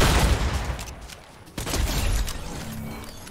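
Rapid gunfire in a Fortnite match, a dense rattling volley that dips briefly before a sharp shot sets off another loud burst.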